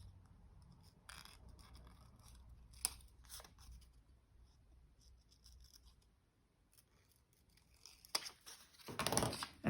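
Scissors snipping paper tickets for a journal card, a few quiet scattered cuts and rustles close by, with a louder cluster of snips and paper handling at the end.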